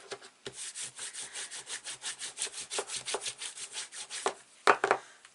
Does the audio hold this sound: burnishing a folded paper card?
yes